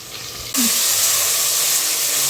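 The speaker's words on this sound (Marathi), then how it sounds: "आता सगळ्या भाज्या टाकून दिल्या त्या थोड्या परतून घेते" Mixed vegetables hit a hot pan over browned onion, bursting into a sudden loud sizzle that holds steady as a broad, hissing sear close by.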